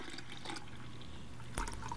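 Faint, close liquid trickling as a drink is poured into a glass for a spiked mocha egg cream, a soft continuous flow with a brief clink near the end.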